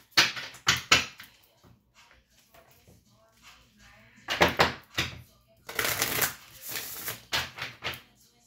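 A deck of cards is shuffled in several quick bursts of riffling and slapping, with quiet pauses between them and no voices.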